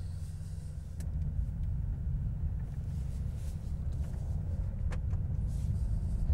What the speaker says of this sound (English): Let's just open up the exhaust a little bit more so we can hear.